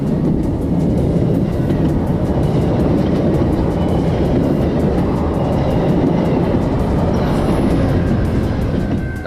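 A CN freight train on the York Subdivision near Doncaster Diamond, Thornhill, rumbling past close by with a continuous loud roar of wheels on rails and faint clatter, no talk.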